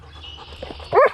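A German shepherd puppy gives one sharp, loud bark near the end after low rustling and quiet background sounds.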